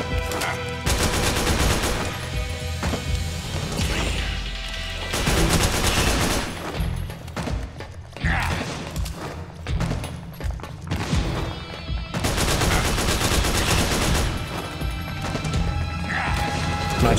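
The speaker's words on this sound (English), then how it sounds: "I'm about to run out of ammo with the AK." Repeated bursts of AK rifle fire in the PS3 game Metal Gear Solid 4: Guns of the Patriots, loud and close, in dense volleys separated by short pauses, with crashes and impacts mixed in.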